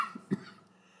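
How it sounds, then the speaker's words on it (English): A single short cough from a lecturer, soft and close, in an otherwise quiet room. "Sorry, I had a cough."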